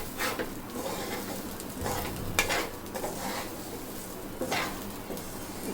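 Rice being fried with spices in a pan for chicken tehari, a continuous sizzle with repeated scraping stirs of a utensil against the pan at a steady close range.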